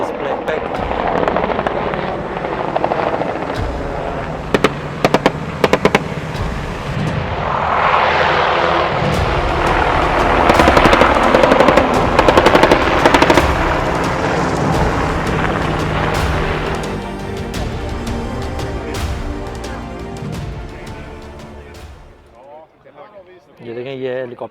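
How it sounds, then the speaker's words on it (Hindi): A Helicopter 15 at a Swedish Army flying display: its loud rotor and engine roar swells and fades as it flies past nearby, with people talking over it. "दूसरा हेलीकॉप्टर ने फ्लाइट ले ली।"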